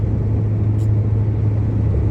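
A restored four-wheel-drive truck, back on the road after sitting for 22 years, rolls along with a steady, loud low engine drone and road rumble that stays constant throughout, with no voices.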